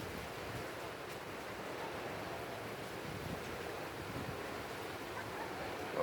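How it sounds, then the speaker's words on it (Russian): Strong wind blows steadily in Antalya after rain, a loud, unbroken roar of rushing air and rumbling microphone buffeting that holds at an even level throughout. "Какой сильный ветер."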